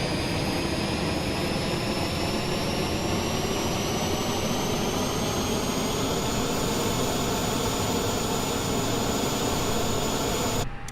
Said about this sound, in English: Listen to that APU spooling.